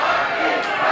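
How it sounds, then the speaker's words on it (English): A wrestling arena crowd roars and chants without break through a match between Rocky Brewer and the Mercenary, loud and dense, with no voice standing clear of it. "And the crowd chanting"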